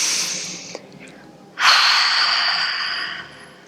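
Two breaths at a children's yoga session held in tree pose: a brief airy exhale that fades, a pause, then a long, loud, steady breath starting mid-way and tapering off slowly, close and alone with no talking.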